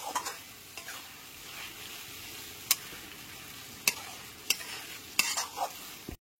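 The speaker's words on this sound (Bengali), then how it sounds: "গ্যাসের ফ্লেমটা মিডিয়াম টু হাইতে রেখে চিকেনের পিসগুলোকে খুব ভালো করে কষিয়ে নিতে হবে।" Chicken pieces sautéed and stirred in a pan over a medium-high gas flame for chicken keema khichdi: a steady close sizzle with a few sharp scrapes and clinks from the stirring spoon, and no talking.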